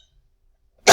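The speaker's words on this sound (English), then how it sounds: "I am coughing a lot right now" A single loud, harsh cough bursts out at the very end after near silence.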